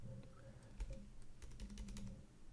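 Someone types on a computer keyboard in quick bursts of light clicking, faint and close, over a low steady background hum with no talking.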